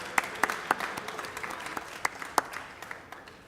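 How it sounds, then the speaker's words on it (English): Applause from an audience at a hackathon challenge presentation event, a moderate crowd clapping with a few sharp, prominent claps standing out near the front. "Do you want to give yourselves a round of applause so far?"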